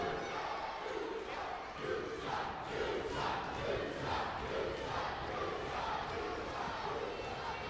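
Wrestling crowd at a PPW Revolution show reacting to Team WXW, a loud, continuous roar of voices with rhythmic swelling chant-like pulses, heard from within the arena.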